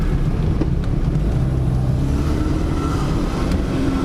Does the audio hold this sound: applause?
no